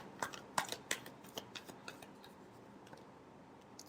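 Tarot cards being shuffled by hand in a quiet room, with a run of soft crisp flicks and taps, a few louder snaps early, then gentler ticking fading over about four seconds.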